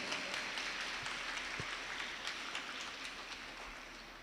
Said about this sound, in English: So give a huge round of applause for all the executive members